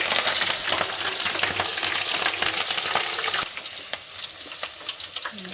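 Onion, garlic and ginger frying in oil for pav bhaji, a steady close sizzle with stirring scrapes running throughout, easing slightly in level partway through, no talk.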